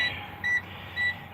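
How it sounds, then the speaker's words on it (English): Two short, high electronic beeps sound about half a second apart over a faint steady hum, from a vehicle with its APU running. "I got the door open and I'm hearing beeping already."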